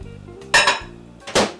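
A ceramic ramekin clinks twice against the hard surface inside a microwave as it is set down, two sharp close knocks over a faint steady hum.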